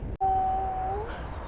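A dog howling outdoors on a walk near a golf club, one long sustained loud howl that rises slightly at the end, right after a sharp click.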